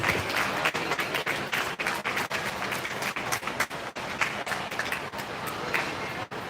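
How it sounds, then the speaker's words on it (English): Scattered, moderately faint clapping from a small crowd at a 4-H and FFA sheep show at a county fair, uneven and patchy with soft thuds throughout. "Give these two gentlemen a round of applause."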